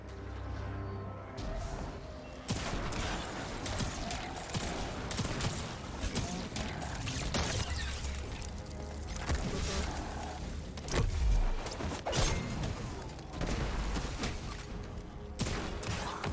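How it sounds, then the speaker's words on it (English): A gun in the video game Destiny 2 fires in dense rapid bursts over a constant roar of game sound, with repeated sharp cracks running through most of the passage. "this gun firing on release makes it seem a little laggy"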